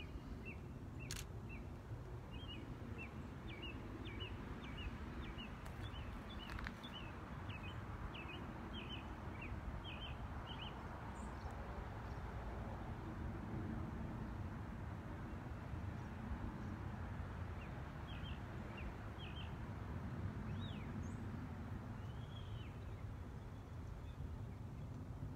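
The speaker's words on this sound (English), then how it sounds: "let you listen to the birds for a minute" Birds sing in a garden under a blue sky: a series of short, repeated chirping phrases sounds faint and somewhat distant over a low, steady outdoor rumble, with no talking.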